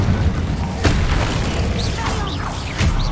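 Incendio fire spell cast in the video game Hogwarts Legacy, a loud booming burst over game combat noise, with short whooshing effects and voices shouting through the fight.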